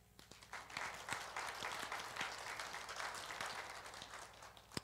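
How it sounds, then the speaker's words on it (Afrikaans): A church congregation applauds new members being welcomed in, a dense, steady clapping from a crowded hall lasting several seconds. "Klap vir hulle hande."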